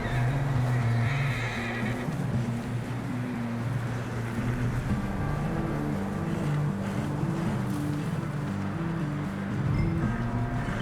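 A horse whinnies and snorts in Red Dead Redemption 2, its neighs rising over a steady low rumble of game ambience with faint hoofbeats, loud and close, with no talking.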